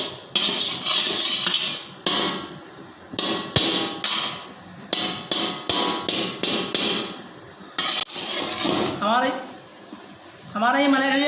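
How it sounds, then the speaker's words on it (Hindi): Roughly 2.5 kg of khoya is roasted in a pan on a lit stove, with a rapid series of loud metallic clanks and scrapes against the pan, and a voice talking over the final seconds. "अब पहले हम इसको भुनेंगे खोए को, ठीक है, इस तरीके से भुनेंगे।"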